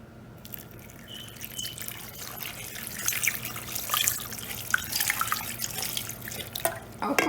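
Water trickles and splashes into a cooking pot, a soft continuous pour with some dripping, quiet and close.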